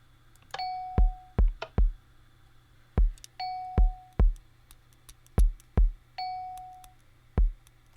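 A bell chimes in a Minecraft Morse-style code puzzle, with single ringing tones spaced among short sharp clicks in an uneven coded rhythm, clear and close with no talk.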